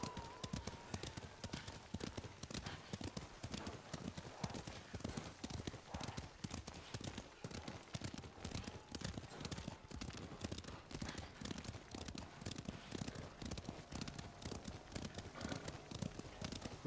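Horse hooves clip-clop in a steady, brisk rhythm in a samurai-era video game, loud and close, with faint scattered clutter behind them.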